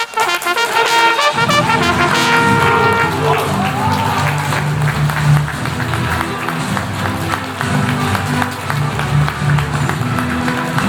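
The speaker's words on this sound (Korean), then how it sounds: "여러분들의 힘찬 박수와 함성으로 신랑 김국보 군의 입장을 다 함께 지켜보겠습니다." Wedding guests clap and cheer steadily for the groom's entrance, a dense crowd applause running beneath loud celebratory music throughout.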